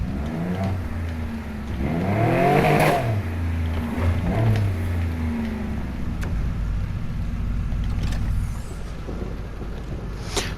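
A maxed-out Porsche RSR with a 3.5 liter V6 and Ultimate Turbo revs up and down in Need for Speed Heat, with rising and falling engine sweeps followed by a sustained steady drone, loud and with no voices.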